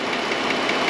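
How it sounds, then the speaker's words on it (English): Fuel injectors firing on the fuel rail of a Pentastar 3.6 engine, heard close up through a probe as a steady, dense mechanical ticking over the engine's running hum. "I can hear all the injectors firing."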